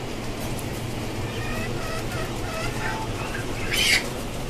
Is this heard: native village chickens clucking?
yes